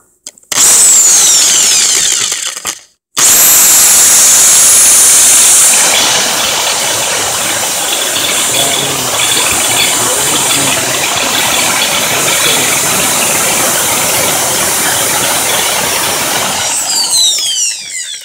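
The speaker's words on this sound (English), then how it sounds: "I guess what we're going to do is just precision ream it. Just take out little bits at a time." A power tool reams a precision hole in metal, a loud steady whirring grind that cuts out briefly near the start, then runs continuously and close.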